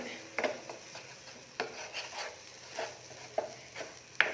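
A spoon stirring fresh cream into kadai paneer in a non-stick pan, with soft intermittent scrapes and rubs at irregular intervals, close and fairly quiet with no talking.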